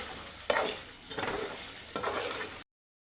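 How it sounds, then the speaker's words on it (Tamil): Pepper chicken with black pepper and cumin sautés in a pan in Madurai style, a dense close sizzle broken by three scraping stirs before it cuts off abruptly. "இப்போ நல்லா வந்து இது வதக்கலாம்"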